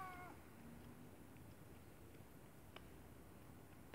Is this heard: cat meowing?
yes